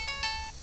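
A phone rings in an abandoned house in Vallejo, giving a short electronic ringtone burst of stacked steady tones that cuts off after about half a second, fairly close, with no talk over it.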